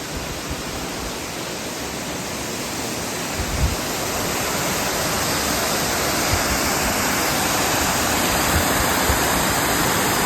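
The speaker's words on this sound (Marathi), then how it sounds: "हा बाजूलाच असलेला धबधबा कमालीचा धबधबा आहे सुंदर धबधबा आहे" The Ozarkhol waterfall beside a temple pours in a dense, loud, steady roar that fills the whole stretch, close by and unbroken, with no voices.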